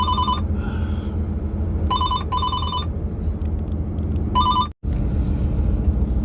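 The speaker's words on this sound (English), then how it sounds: "Phone rang." A telephone rings in several short electronic bursts, some paired, against a steady low rumble indoors, with a brief dropout near the end and no speech.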